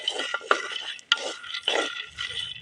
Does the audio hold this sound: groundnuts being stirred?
yes